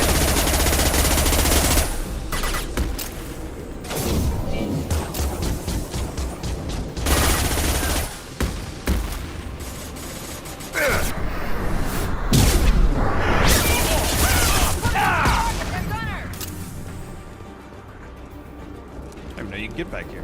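Automated weapon range on the Citadel in Mass Effect 2, with bursts of rapid game gunfire and whooshing effects, loud and broken by short gaps, while someone talks over parts of it.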